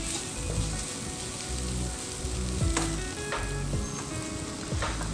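Okra, tomato and onion masala fries in oil over a low flame, giving a steady bright sizzle throughout with faint scrapes and clinks of stirring now and then, and no voices.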